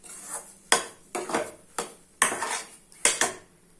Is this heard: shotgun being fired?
no